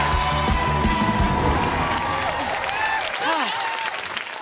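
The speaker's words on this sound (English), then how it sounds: "And round of applause from our VIPs over there." Studio audience at a dance competition show applauding and cheering for VIPs, steady dense clapping throughout with a host's voice and music tones faintly over it as the applause fades.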